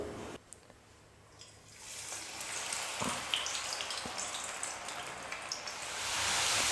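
Potato chips frying in hot oil for a crispy snack, a soft bubbling sizzle that starts faint and swells steadily louder, with a couple of brief clinks along the way.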